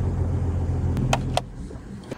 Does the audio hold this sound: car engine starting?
yes